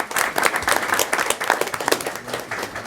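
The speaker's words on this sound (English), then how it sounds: "Let's give them a round of applause." An audience claps steadily for National Hispanic Scholars and their parents at a GCISD school board meeting, a dense, sustained round of applause that holds at an even level throughout, with no voices speaking over it.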